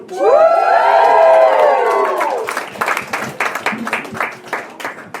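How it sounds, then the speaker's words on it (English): A comedy-show audience in East London whoops and cheers loudly in a sustained rising crowd roar, then breaks into rhythmic clapping that continues to the end. "Lots of other people whooped and clapped"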